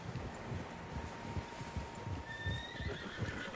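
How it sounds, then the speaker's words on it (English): Several horses whinny and neigh while hooves clip-clop over rustling ground in Red Dead Redemption, a busy outdoor scene with no voices. "Horses, quite a few of them."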